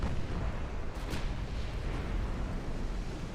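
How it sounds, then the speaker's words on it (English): Naval guns fire in the Ultimate Admiral Dreadnoughts warship game during a battleship engagement: a steady, heavy rumble of distant artillery and explosions runs throughout, with a couple of sharper bursts near the start and no speech. "Do we finish off the battleship?"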